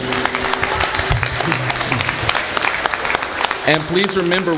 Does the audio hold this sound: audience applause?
yes